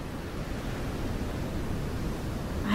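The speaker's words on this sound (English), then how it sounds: "The wind sure is making the waves pick up today." Ocean waves churned up by wind, a steady broadband wash of surf noise that stays fairly soft and even throughout, with a slight swell at the very end.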